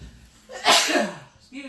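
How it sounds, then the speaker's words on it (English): A single close sneeze bursts out in a kitchen while homemade chili and mustard chicken wings are being made, a sharp explosive burst trailing into a breathy exhale with a faint voiced sound afterward. "Sorry guys, that's how I sneeze."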